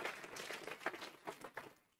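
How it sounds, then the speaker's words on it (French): Faint, sparse clapping rings out at a regional crafts awards ceremony, a handful of distinct claps and a short patter that fades away. "On peut les applaudir bien fort."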